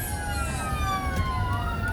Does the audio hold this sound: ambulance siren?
yes